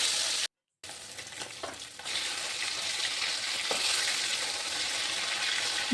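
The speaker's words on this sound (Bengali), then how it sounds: "বাদবাকি মাছগুলো ভেজে নিচ্ছি।" Pieces of rohu fish sizzle steadily in hot mustard oil in a pan, a dense, even crackle with a brief silent gap near the start and no voices.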